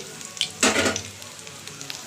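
Topse fish frying in hot oil, a short burst of loud sizzling rising midway through a quiet kitchen background, no talk.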